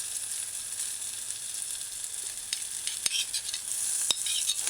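Diced onions saute in a pan for a Caribbean-style pizza topping, producing a steady close sizzle with occasional stirring clicks and scrapes and no talking.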